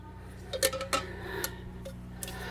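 Camping cookware pots and lids handled in a camp kitchen set, giving a few light metallic clinks and knocks near the mic, separate bright clatters spaced over a couple of seconds against a low steady hum.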